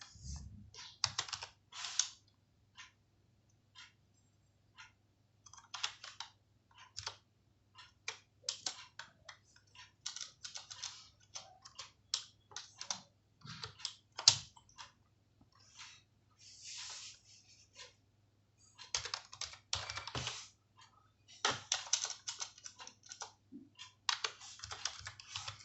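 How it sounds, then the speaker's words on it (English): Rapid, irregular clicking of computer keyboard keys as data records are entered into a Microsoft Access table, bursts of typing separated by short pauses over a faint steady low hum. "press enter and we move to the next record, and I type the second record"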